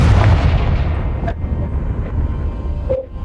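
A Confringo explosion spell cast in Hogwarts Legacy on PC gives a loud, dense burst of rumbling blast noise, then a sharp crack midway and a short ringing tone near the end.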